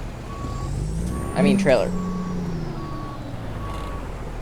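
A truck in American Truck Simulator backs up with evenly spaced reversing beeps over a low engine drone, while a person speaks briefly in the middle.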